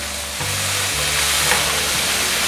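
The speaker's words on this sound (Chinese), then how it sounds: "快速的翻炒，把所有调味料炒匀" Vegetables stir-fried with turmeric and Himalayan black salt sizzle steadily in a hot pan, a continuous close frying hiss with soft stirring movements underneath, no voices.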